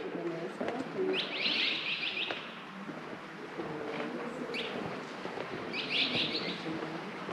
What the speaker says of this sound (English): No, they're sparrows.